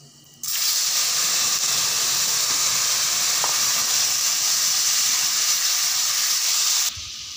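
Tomatoes go into a hot pan with dried red chilli and amchur powder, and a loud, close sizzling hiss starts at once, stays steady for about six seconds, then drops off.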